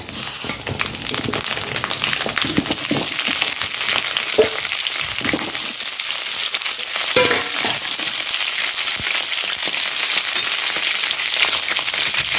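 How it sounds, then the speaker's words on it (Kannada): Brinjal pieces frying in hot coconut oil in a pan, giving a loud, continuous close-up sizzle and crackle that holds steady throughout with occasional stirring sounds. "ಎಣ್ಣೆ ಬಿಸಿಯಾದ ಮೇಲೆ ಬದನೆಕಾಯಿಯನ್ನು ಎರಡು ಮೂರು ಸಲ ಒಳ್ಳೆ ತೊಳೆದಿದ್ದೇನೆ ಹಾಕಿಕೊಳ್ಳಿ"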